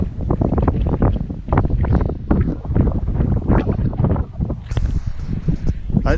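Wind gusts across an open field of wildflowers in a California super bloom near Weldon, producing loud, buffeting rumbles against the microphone that rise and fall throughout.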